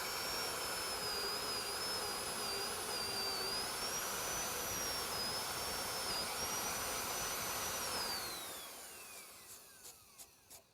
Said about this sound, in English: And I'm just going to drill this hole right now.